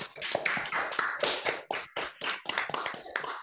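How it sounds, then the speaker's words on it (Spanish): Scattered applause from online meeting participants clapping with their microphones on, a quick run of close, uneven hand claps with no talking. "me gustaría como sacar el micrófono de todos y aplaudirnos"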